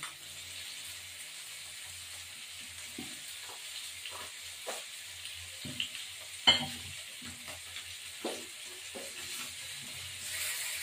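Sarputi fish fry in a pan, a quiet continuous sizzle broken by several sharp scrapes and taps of a utensil against the pan.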